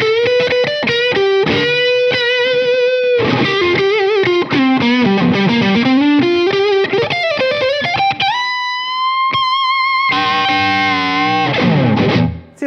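An inexpensive electric guitar plays a loud, sustained melodic line with bends and held notes through an effects unit, alone with no talk.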